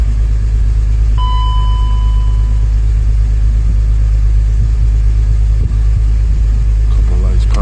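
A BMW E53 X5 engine runs steadily after a fuel pump replacement, a loud low rumble holding throughout with a brief chime or tone near the start and faint clicks later.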